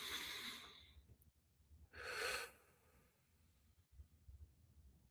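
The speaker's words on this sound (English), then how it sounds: "the goal is to try and use our diaphragm or by our stomach instead of our chest doing the breathing" Slow diaphragm breathing exercise: two soft, separate breaths, a drawn-out exhale and then another long airy breath, quiet and close with pauses in between, and no talking.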